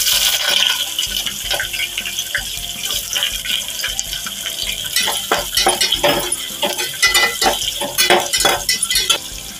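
Chopped onion tipped into hot oil with whole spices in a pan for aloo matar pulao, giving a loud, steady hissing sizzle with scattered crackles and pops throughout, no voices.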